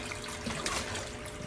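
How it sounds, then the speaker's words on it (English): A couple of gallons of water are poured into a fish tank during routine maintenance, giving a steady, close splashing gush that runs without a break. "I'm just gonna use a couple of gallons of this water. So I'll go ahead and add that to this."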